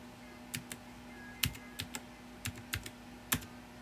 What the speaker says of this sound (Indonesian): Ini keyboard juga udah nggak waras gitu.